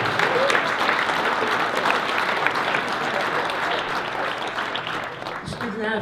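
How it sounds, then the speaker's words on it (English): Sustained applause for school coaches at a board of education meeting, a broad, even rush of many hands clapping that thins out near the end, with a voice starting up just as it fades. "So how about a nice round of applause for all of our coaches."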